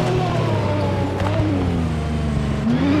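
Porsche 911 rally car engine in the WRC 8 FIA World Rally Championship game, a loud continuous roar with harmonic pitch sweeping up and down through gear changes and a rising surge near the end.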